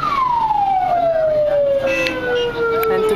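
A police escort siren wails loudly and steadily in traffic in Akhmim, Egypt, its pitch sliding slowly downward over a low hum of traffic.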